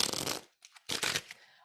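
A magician shuffles a deck of playing cards, two quick close riffles separated by a short pause, bright and papery.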